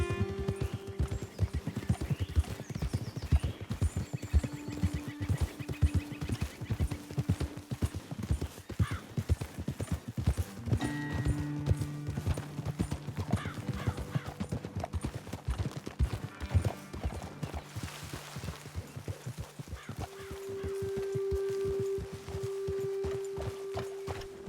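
Horses in the video game Red Dead Redemption 2 walking with steady, close clip-clop hoofbeats throughout, over a low game soundscape with faint musical tones and no speech.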